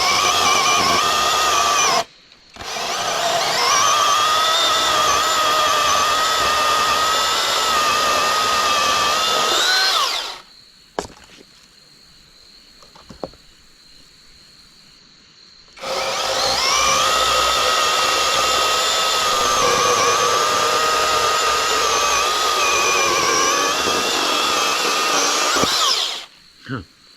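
A power saw cuts wood at a fall campsite in two long, loud, steady bursts of high whining and buzzing, separated by a quiet pause.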